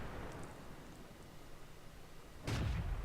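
A single deep boom from an AMX 40 tank's gun in a tank battle game, one loud blast late in the stretch after a steady engine rumble, no voices.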